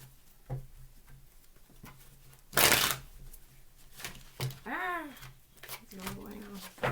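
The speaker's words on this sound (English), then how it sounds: "Three more shuffles." Tarot cards shuffled close by in one short riffle burst amid soft handling taps, with a dog's whine-like sounds and faint voices afterward.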